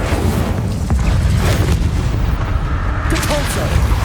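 A dense, roaring whoosh of fire from the Incendio spell in Hogwarts Legacy, loud and continuous like a rumbling blast, with no quiet gaps throughout.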